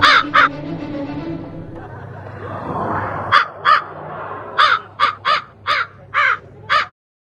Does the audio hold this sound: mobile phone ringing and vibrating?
no